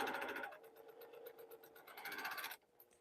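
A Singer XL 1000 sewing machine set up for free-motion quilting stitches in a fast, even mechanical chatter, running steadily for a couple of seconds before stopping abruptly, with only a faint click after.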